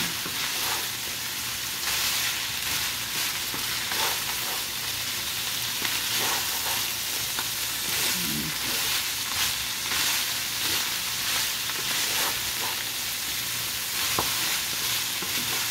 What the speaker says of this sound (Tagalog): tatakluban natin para madaling maluto yung ating eggplant